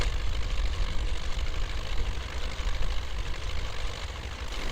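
An MTZ 82.1 tractor engine in Spintires: Mudrunner runs in a steady low rumbling drone, held close and fairly quiet while the tractor wades through water, with no voices.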